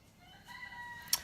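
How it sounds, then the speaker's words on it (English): Rooster crowing faintly in the background outdoors, a single drawn-out call with a sharper peak near the end. "I don't know if you can hear my rooster in the background."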